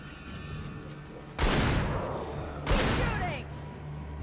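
Two loud, close gunshot blasts from the video game Alan Wake in Nightmare Mode, each a sharp broadband crack about a second apart, decaying with a ringing tail over steady game ambience.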